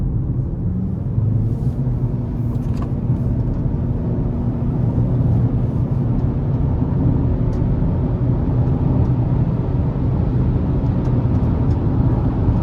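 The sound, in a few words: 2025 Chevy Equinox 1.5 turbo accelerating onto interstate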